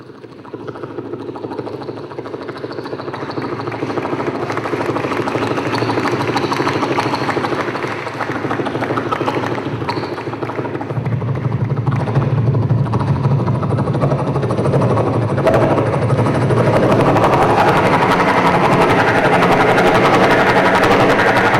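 A human voice imitates a helicopter during a mimicry performance at a summit closing ceremony, producing a continuous whirring drone that grows louder and thicker partway through and holds steady to the end.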